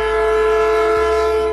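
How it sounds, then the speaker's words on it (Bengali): A train whistle at a railway station at night sounds as one steady, sustained tonal blast, loud and alone without any voices. "ভালো করে শোনার পর বুঝলাম এটা কোনো ট্রেনের হুইসেলের আওয়াজ।"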